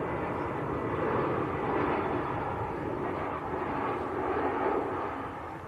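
An EasyJet airliner on short final approach at Manchester Airport, a steady broadband jet roar that swells gently and holds at a moderate distance without any talk.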